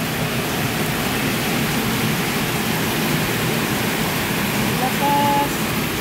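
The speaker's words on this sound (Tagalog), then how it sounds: "Lakas ng ulan oh." Heavy rain pours down in a dense, steady hiss that fills the whole scene without letting up.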